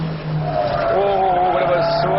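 A BMW E30 M3 engine revs hard around a race track, its loud, steady note climbing in pitch, with a hint of tyre squeal through a hairpin.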